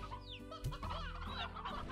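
Chickens in the video game Slime Rancher, several birds clucking and chattering close by in overlapping bursts, with a brief higher squawk partway through, steady and fairly loud over a low background hum.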